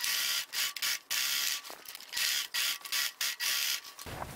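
Domestic sewing machine stitching a seam on a fabric tote bag, a rapid mechanical whirring in repeated bursts of about half a second to a second, close and loud, with brief pauses between runs and no talking.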